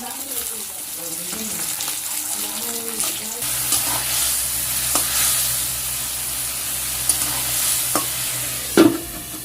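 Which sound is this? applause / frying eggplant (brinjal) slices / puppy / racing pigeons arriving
frying eggplant (brinjal) slices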